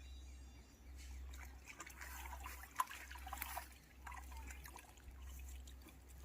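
Cow dung is stirred into water to make a natural-farming neem preparation, giving faint sloshing, trickling liquid sounds over a steady low hum, with no talking.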